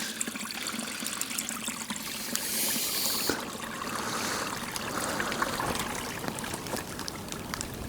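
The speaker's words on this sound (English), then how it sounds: "It sounds beautiful. Look how clear that water is." A clear stream trickles and splashes at close range, a continuous bright watery rush that swells slightly midway, with no talking over it.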